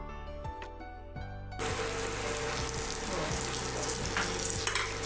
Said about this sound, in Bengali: এবার আমি নাড়াচাড়া করে শুধু কষতে থাকবো।